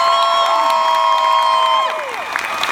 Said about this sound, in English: Keep the applause going for Catherine Tate